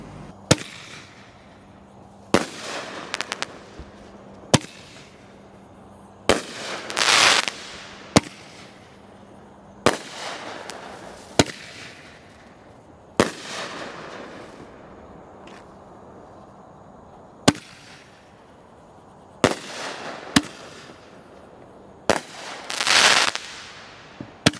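Sunwing Black King 1.75-inch firework ball shells boom one after another outdoors, each sharp distant-sounding launch thump followed by bursts and crackling, about a dozen loud reports spread irregularly over the stretch with quiet gaps between.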